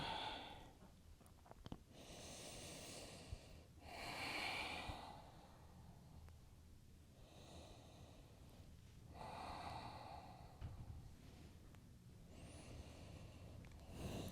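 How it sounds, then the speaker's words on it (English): Slow, deep breaths during an intermediate vinyasa yoga session, with several long airy inhales and exhales in a steady rhythm, close and fairly quiet, with no talking. "Use your breath, see if you can find a little bit more space with every exhale."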